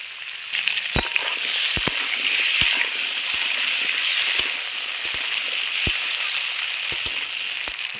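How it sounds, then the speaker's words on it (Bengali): Potatoes fry in hot oil in a pan, giving a loud, continuous hissing sizzle punctuated by scattered sharp pops and crackles, with no other sounds. "এই আলুটা আমি একটু হালকা সুন্দর লাল লাল করে ভেজে নেব।"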